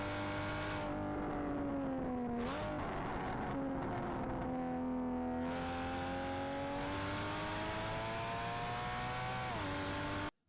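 A car engine at full throttle on a race track holds a loud, sustained tone that climbs and then dips at gear changes, with no voices, before cutting off abruptly.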